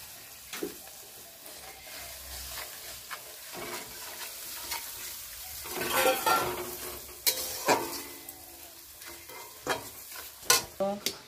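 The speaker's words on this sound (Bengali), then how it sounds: "এটা কষানোর জন্য দিয়ে দিচ্ছি সামান্য জল।" Chopped tomato being sautéed with a little water in a pan, a close sizzle and hiss under repeated stirring and scraping, with a few sharper knocks toward the end and no one talking.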